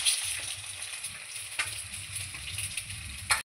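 Eggs fry in hot oil seasoned with turmeric and salt, giving a close, steady crackling sizzle with soft spattering throughout and a brief sharper pop near the end.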